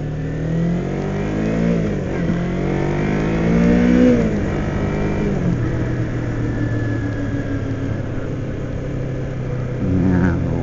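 A 2007 Kawasaki Ninja 250 motorcycle engine revs and shifts while riding, its mid-pitched drone climbing and dropping through gears, loud and steady with continuous wind noise throughout.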